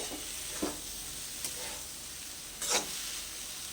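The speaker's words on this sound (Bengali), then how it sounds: "চাট মশলাটা একটু ভালো করে একটু মিশিয়ে নেব" Peas and cauliflower fry over high heat in a pan as chaat masala is stirred in, a steady close sizzle broken by three brief scraping stirs.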